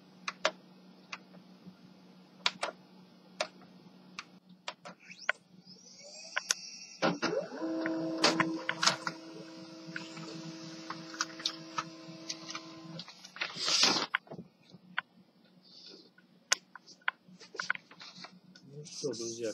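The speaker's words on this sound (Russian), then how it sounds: "Теперь ставлю его в принтер и распечатываю страничку конфигурации." An HP 135 multifunction laser printer prints a configuration page with a steady mechanical whir for several seconds, surrounded by scattered ticks, clicks and handling noises in a quiet room.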